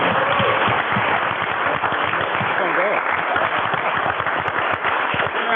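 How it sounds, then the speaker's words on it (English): Crowd clapping at a city council meeting for a state championship student athletic team, steady and fairly loud throughout, with voices and cheers mixed in. "You can clap for that one."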